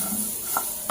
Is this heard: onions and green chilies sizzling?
yes